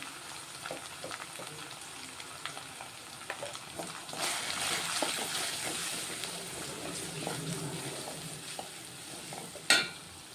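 Ginger, garlic and dal fry in a pan for a Telugu dal dish with raw mango pickle, a steady crackling sizzle with scattered pops and stirring scrapes, growing busier midway and ending on one sharp metallic clink.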